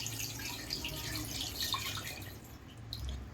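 Tamarind water pours into a pot of simmering fish curry, a steady splashing hiss with bright drips and bubbling that continues evenly throughout.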